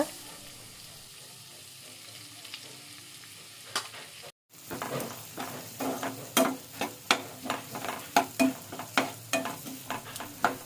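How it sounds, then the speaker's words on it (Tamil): Chopped onions sauté in melted butter: a quiet sizzle for the first few seconds, then a steady run of rhythmic spatula scrapes and stirs against the pan over continuous frying, with no speech. "பட்டர் மெல்ட் ஆன உடனே கட் பண்ணி வச்ச வெங்காயத்தை ஆட் பண்ணி நல்லா வதக்கிக்கோங்க"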